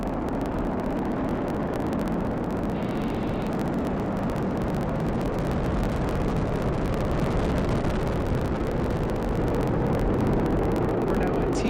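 A SpaceX Falcon 9 launch with nine Merlin 1D first-stage engines, heard as a sustained loud broadband roar with deep rumble and crackle, steady and continuous for the whole stretch.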